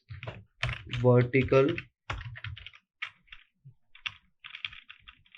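Code being typed on a computer keyboard in short bursts of light, quick key clicks, first mixed with someone speaking and then heard more on their own.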